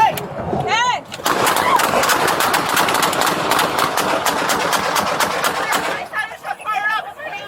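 LAPD officers open fire on a suspect during a street confrontation: a loud, rapid volley of gunshots rattles on for about five seconds, with brief shouted voices just before and after.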